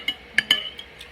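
Dishes being washed at a kitchen sink: a few light clinks of cutlery and plates knocking together, soft and close, spaced irregularly over a quiet background.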